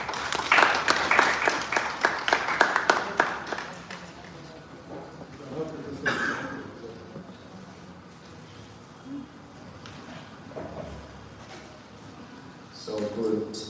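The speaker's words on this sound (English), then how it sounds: "Let's give him a round of applause." Audience at a Uganda Law Society event applauds a speaker, a burst of dense clapping that fades over several seconds while a voice talks over it.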